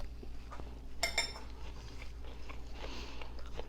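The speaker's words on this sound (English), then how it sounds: "I have to try a little bit of my salad" Quiet close-up eating of a warm salad with firm goat cheese, with a metallic clink of cutlery on a plate followed by soft chewing and faint rustles, no talking.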